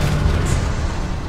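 An explosion in the video game ELEX booms loud and broad, a deep rumbling blast filling the short moment with no talk over it.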